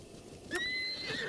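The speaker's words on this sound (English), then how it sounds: "We're grabbing ourselves a horse real quick." A horse whinnies once in The Legend of Zelda: Breath of the Wild, a short bright neigh rising clearly over quiet game ambience, close and fairly loud.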